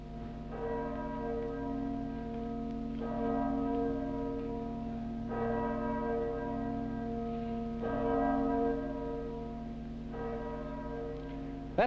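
A large 2.5-ton cast bell at the Taylor bell foundry in Loughborough rings out in slow, resonant strikes roughly every two and a half seconds, each stroke blooming into a long humming tail of overtones that overlap continuously.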